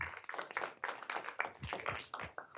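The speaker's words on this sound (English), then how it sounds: "let's give these Scouts a round of applause" Applause for a group of Scouts at a city council meeting, a steady patter of many hands clapping at moderate distance, fairly faint and continuous for a couple of seconds.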